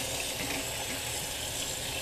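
Pumpkin seeds being washed by hand in water give a steady, close wash of splashing and trickling with no break across the short span.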